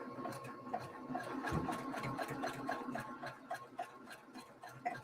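A sewing machine stitching a quilt seam runs with a steady, rapid mechanical ticking and a soft motor hum throughout, quiet and close, with no voices.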